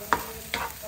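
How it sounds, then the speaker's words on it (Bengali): Shrimp and ground pumpkin leaves with turmeric frying in a pan, heard as a soft, steady sizzle with two quick stirring scrapes close by. "5-7 মিনিট একটু ভেজে নেব, জল শুকিয়ে গেলে নামিয়ে নেব।"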